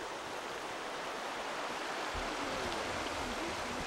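A forest stream flowing over a carved rock bed near Angkor in Cambodia, a steady, even rush of water with a low murmur and no other sounds.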